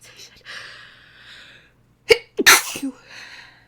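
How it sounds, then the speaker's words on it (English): A woman sneezes once, loudly and close up, after a few quiet breathy inhales and a short gasp, then makes a faint sniffle and sigh. "that's how I can tell that I'm actually gonna sneeze."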